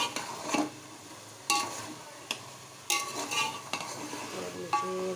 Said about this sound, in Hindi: इसको थोड़ा सा ना फ्राई कर लूँ